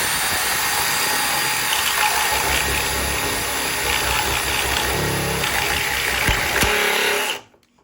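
A Milwaukee cordless drill bores through a block of wood with a loud, steady whine and grind that runs for about seven seconds, then cuts off sharply into near silence.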